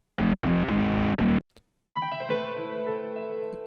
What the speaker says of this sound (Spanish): completamente distorsionado